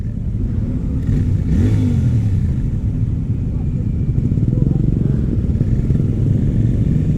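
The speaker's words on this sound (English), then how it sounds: "He's loving his engine, that guy, isn't he? I don't know if you can hear it, he's flat out." A Royal Enfield Classic 350 motorcycle runs flat out with a steady, loud, low engine drone and some wind rush, holding its pitch throughout.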